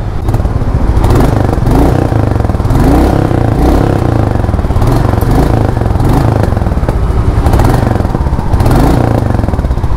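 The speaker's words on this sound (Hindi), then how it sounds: "फिर से एक बार आप लोगों को साउंड सुना देता हूँ बाइक का।" A Royal Enfield Meteor 350 motorcycle engine runs close and loud, a steady throbbing single-cylinder thump with slight rises in revs, and no talking over it.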